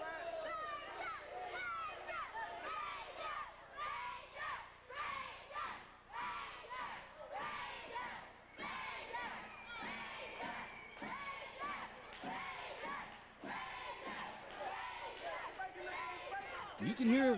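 Crowd cheering at an independent wrestling show, a rhythmic, chanting roar from the audience that surges and dips in regular bursts, with children's shouts mixed in and a thump near the end.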